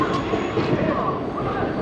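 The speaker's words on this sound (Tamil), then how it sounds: "ஹைதராபாத்திலிருந்து வருதுங்க இந்த ட்ரெயின்" A passenger train from Hyderabad rolls into an Indian station, a steady rumbling roar of wheels and carriages that stays loud and close throughout, with faint voices underneath.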